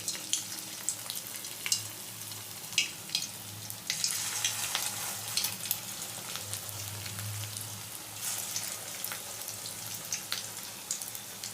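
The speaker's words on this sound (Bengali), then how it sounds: "এবারে একে একে পকোড়াগুলো ছেড়ে দিচ্ছি।" Chowmein pakoras frying in white oil in a wok, a steady close crackling sizzle with brief popping bursts throughout, no talking.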